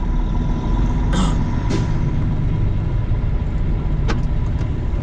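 Steady road traffic on the I-70 highway on a busy morning, a continuous broadband roar of cars and trucks with a couple of brief hissing bursts like air brakes, and no talking.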